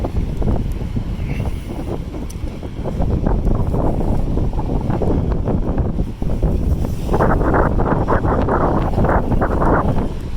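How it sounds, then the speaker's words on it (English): Gusting wind buffets the microphone on a downtown Hamilton street beside a high-rise building, a steady low rumble of broadband roar that swells louder midway and stays heavy to the end, with no voices. "bit of a windy period here because I've got a high-rise building"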